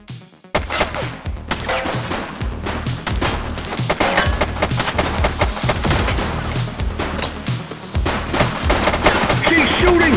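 Dense rapid gunfire fills a shootout in the police game The Precinct, with bursts of automatic fire and overlapping shots running loud and nearly continuous throughout, the intensity building toward the end.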